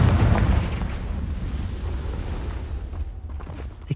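A Confringo spell in Hogwarts Legacy bursts in a heavy explosive boom at the start, then a long rumbling tail fades into a low roar.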